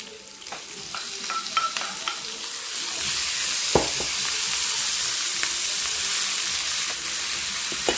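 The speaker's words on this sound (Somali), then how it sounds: "waxa sugeena inta hilibka iyo basasha hadana isku shiilmayaan" Minced camel meat and onions sizzle steadily in a pan as a pasta dish is cooked. Scrapes and clinks of stirring break through the continuous frying hiss, and no one speaks.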